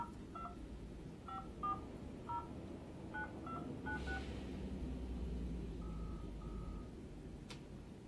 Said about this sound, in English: So it's calling now, so we'll wait.